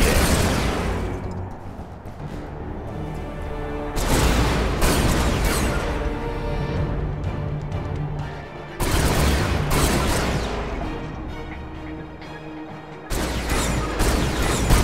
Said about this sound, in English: Now move your zone troopers over to this damaged building. Order your men to destroy the structure.